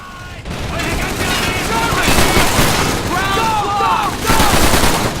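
Thompson submachine gun fire in Call of Duty 3, loud rapid automatic bursts with booming impacts and other battle noise, continuing in near-constant fire throughout.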